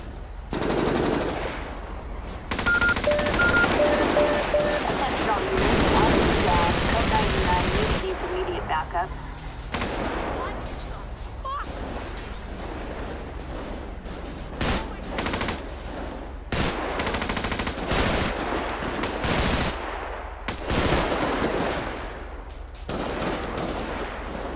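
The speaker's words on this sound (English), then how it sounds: "multiple shots fired" Sustained automatic gunfire rattles through a video game shootout at an apartment complex, with dense bursts and single shots crackling loudly for the whole stretch, some nearer and some farther, and no talk over them.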